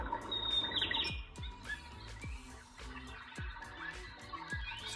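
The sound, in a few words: recorded sparrows or finches singing from LED night lamp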